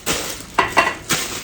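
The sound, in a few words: chow mein sizzling in a pan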